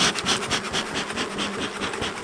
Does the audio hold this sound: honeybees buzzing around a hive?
yes